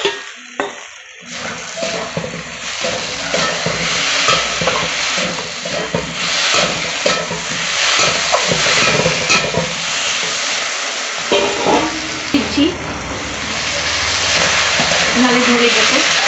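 Fried potatoes go into a spice masala for a banana-stem and shrimp dish, giving a loud, continuous sizzle and stirring hiss while a voice speaks over it.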